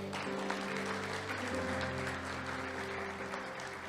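Steady applause from a church congregation fills the whole stretch, with a sustained musical tone droning underneath.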